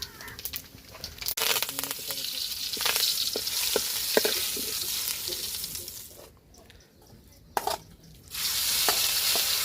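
Cumin and mustard seeds fry in a pan with onion and tomato, crackling in a dense, steady sizzle with some stirring, briefly dropping off before picking up again.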